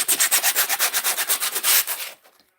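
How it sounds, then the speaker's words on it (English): Paint being scraped down across a canvas with a tool, a rapid run of about sixteen rhythmic rasping strokes up close, loud and even, trailing off into quiet at the end. "we gotta scrape this down a little bit"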